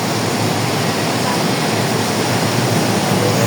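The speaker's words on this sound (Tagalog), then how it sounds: "Umaragas ang tubig dito sa may Marikina Riverbank." Floodwater rushes loudly along the Marikina River bank during a typhoon, a steady, dense broadband roar that holds constant throughout with no breaks.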